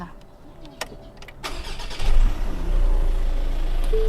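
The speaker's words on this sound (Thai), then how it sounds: "เดี๋ยวอ่านก็อนุญาตสตาร์ทรถแป๊บนึงค่ะ" A white Ford XLT pickup's engine cranks and catches after some small clicks and handling noises, then settles into a steady, loud idle.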